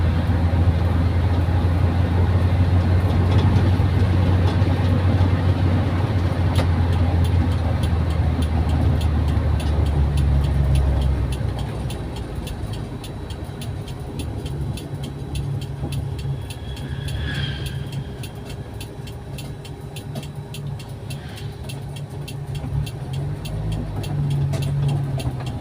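A car running on LPG with its air conditioning on, cruising around 80 km/h, produces a steady low engine drone that drops in pitch and loudness midway as it shifts down a gear, then hums on evenly.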